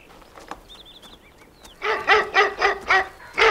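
A Great Dane lets out a run of deep, loud barks in quick succession after a brief lull with faint bird chirps.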